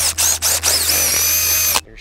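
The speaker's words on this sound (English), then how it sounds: "I want to drill a hole through the wood on a downwards angle" A power drill whines steadily at close range as it bores a hole at a downward angle through wood, with a few brief stutters early on before the motor cuts off abruptly.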